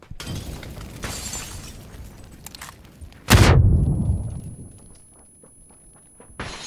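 A molotov cocktail shatters in PUBG, a sudden loud glass burst and whoosh that flares into a rushing roar of flames and slowly dies down, between scattered game noises.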